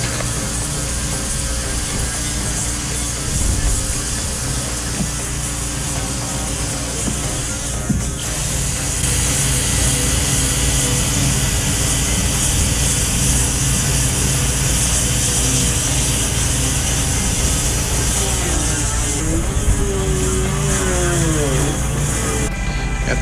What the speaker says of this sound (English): Any cracks I found near the stanchion areas, I ground out with the Dremel